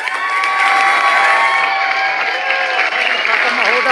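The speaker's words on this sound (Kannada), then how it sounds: "ಜೋರಾಗಿ ಚಪ್ಪಾಳೆ ಬಂದಿದೆ." A crowd cheers and claps loudly and steadily after a children's dance performance at a Kannada Rajyotsava celebration in Gurgaon, with children's shouts mixed into the continuous applause.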